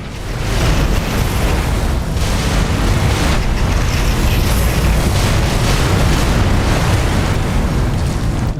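Biofactory explosion in The Riftbreaker, a loud, sustained roaring blast with dense rumbling debris that fills the whole stretch without letting up.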